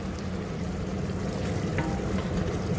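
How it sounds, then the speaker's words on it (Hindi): Beef qeema with bitter gourd (karela) frying in a little under half a cup of oil for a Pakistani dish, a steady low sizzle and crackle throughout, with no talk. "1/2 कप से थोड़ा सा कम ऑयल डालेंगे, मिक्स कर लेंगे और इसके साथ इसकी भुनाई करेंगे"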